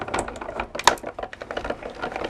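A Cuttlebug embossing machine with plates being cranked through it, giving a quiet run of close clicks and ratcheting taps with one sharper knock partway through.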